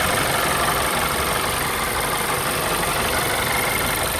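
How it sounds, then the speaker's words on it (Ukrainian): A used car's engine idles steadily under the bonnet, a continuous, even, fairly loud hum with no speech. It may be a turbocharged Volvo V60, VW Golf or Skoda Octavia. "Двигун робить рівно."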